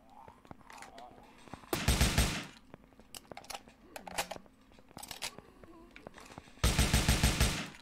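Bursts of rapid gunfire from a zombie survival shooter, The Last Hope: Dead Zone Survival, with short rattling volleys separated by single shots and quieter gaps, loud and close in the mix.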